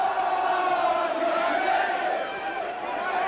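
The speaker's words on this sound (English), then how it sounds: "And listen, this crowd sing." Rugby league crowd at a Workington Town versus Wigan match singing together, a broad sustained chant from the stands at moderate distance, steady throughout with a slight dip near the end.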